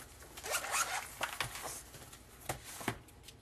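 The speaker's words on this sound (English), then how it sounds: "And then we'll go ahead and cut the excess off." Scissors snipping excess twine while crafting a card, heard as several quick, faint cutting and rustling sounds close by.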